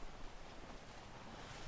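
Broad, steady wash of ocean surf and wind on the open sea in the game Atlas, a continuous rushing roar with no distinct breaks and no talk.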